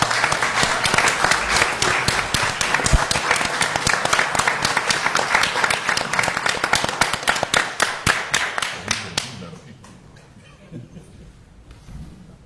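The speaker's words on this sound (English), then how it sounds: "Please give him a round of applause." An audience at a city commission meeting claps steadily for about nine seconds before the applause thins to scattered claps and quiet room noise, with faint voices underneath.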